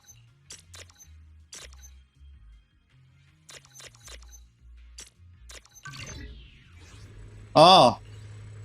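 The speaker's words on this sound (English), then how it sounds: "That's the sound of machinery." Machinery in a video game starts up after a generator section, a broadband mechanical whir and rising tone that swells near the end into a loud sustained grinding burst, following earlier soft clicks and low thuds.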